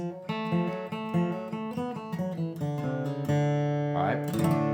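A quick twangy bluegrass banjo lick with rolling picked notes, hammer-ons and slides, played up close, ending in a sustained note as a voice begins to speak.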